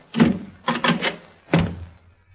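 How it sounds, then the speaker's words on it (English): A door is opened as a sound effect in a 1931 old-time radio drama: a few close, heavy wooden thumps and rattles come in uneven bursts, followed by quiet. "Are you going to open that door"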